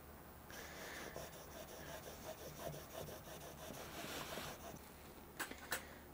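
Steel chisel sharpened on the 800-grit side of a sharpening stone, making a steady, close rhythmic rasping scrub of back-and-forth strokes, quiet overall, ending with a couple of light taps.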